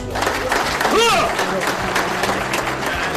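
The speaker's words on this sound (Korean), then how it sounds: "그동안의 노고를 치하해주는 박수에 대원들의 가슴은 자부심으로 벅차오른다." Crowd applause honouring military reservists at an American ceremony, steady clapping filling the space with voices and a cheer rising over it midway.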